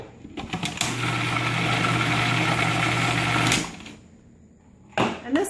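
A food processor whirs steadily with a high motor whine while blending raw brownie frosting, runs loud for about three seconds, stops, then gives a short restart.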